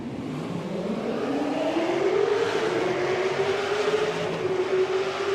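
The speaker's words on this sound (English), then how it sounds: "The engines are rising," V8 Supercars race engines at the start at COTA swell into a rising, sustained roar as the pack accelerates together, loud and steady, with no voices over them.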